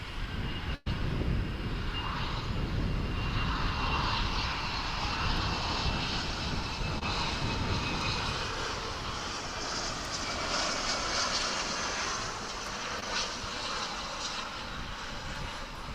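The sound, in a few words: Alaska Airlines jet plane at Dallas/Fort Worth airport runway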